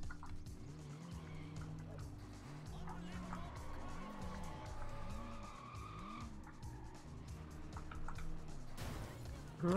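Car driven fast through traffic in the Sleeping Dogs video game, with a steady engine drone and repeated rising-and-falling revs as gears shift, tires squealing at times, and a sudden loud burst at the very end.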